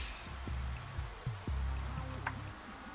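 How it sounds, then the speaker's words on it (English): Rain falling in the video game Pathologic 3, a steady wash of patter that runs through the whole stretch over low droning tones, with a few sharper drips standing out. "Well, it's raining, so there's a fuck ton of water around"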